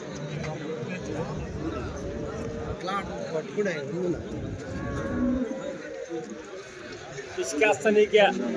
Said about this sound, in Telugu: ఇంగ్లీష్ బ్రీడ్ ఆవులు, ఇంకా హెచ్ఎఫ్ దూడలు, జెర్సీ దూడలు